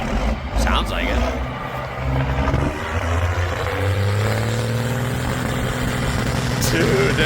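Petrol engine of an Alvis Stalwart amphibious military truck runs steadily throughout, a low droning rumble with rising pitch sweeps as it works, while people talk over it.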